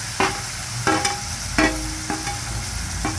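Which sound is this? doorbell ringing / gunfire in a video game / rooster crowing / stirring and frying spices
stirring and frying spices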